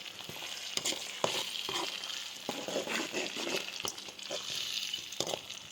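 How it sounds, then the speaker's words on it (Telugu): Tomato puree tipped into golden-brown fried onions in a pan, sizzling and frying steadily while a spoon stirs with repeated clattering scrapes against the pan. "ఆనియన్స్ గోల్డెన్ బ్రౌన్ కలర్ వచ్చిన తర్వాత పేస్ట్ చేసుకున్న టమాటో ప్యూరీని వేసి కలుపుకోవాలి"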